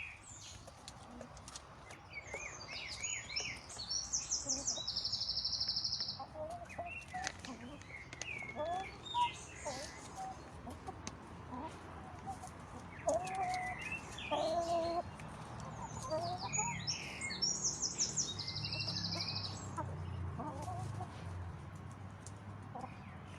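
Hens clucking outdoors on a garden vegetable plot, including an old hen of about six years, giving scattered short clucks and calls over a steady low background with occasional faint voices.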